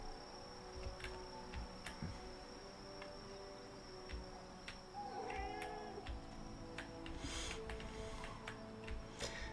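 A cat in a castle setting from the Medieval Engineer video game gives a short meow or two midway, faint against a constant chirping of crickets and quiet ambient background.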